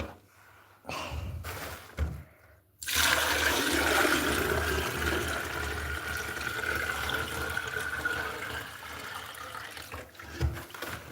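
Running water is let in with a loud rush after a few thuds, then flows steadily and close for several seconds.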